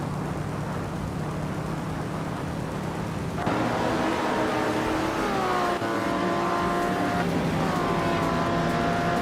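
Lamborghini 400 GT from 1965 racing in a video game: a steady engine drone holds for a few seconds, then rising whining harmonics climb through gear shifts, with a second shift near the end, loud and continuous.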